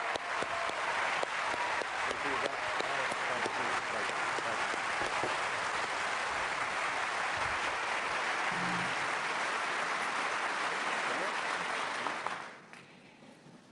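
Sustained applause from a large debate audience welcoming Senators Obama and McCain, a steady wash of clapping that continues for several seconds before abruptly fading out.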